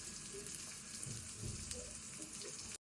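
Spices including garam masala and turmeric frying in a pan for crab curry, a faint, soft steady sizzle heard close, with no speech, ending abruptly in silence.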